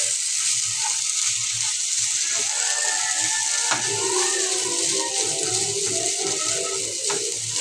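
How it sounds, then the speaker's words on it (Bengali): Okra and onion frying in a pan, a continuous loud hiss and sizzle with small crackles and occasional clinks from stirring. "আর একটু ভেজে নেব"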